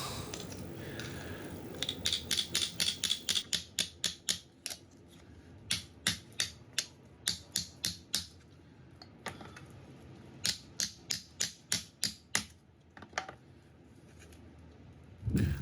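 Rapid metallic taps in quick bursts as sheet metal on a junkyard Porsche 912 is hammered by hand, many strikes in a row with short pauses between runs, close and sharp.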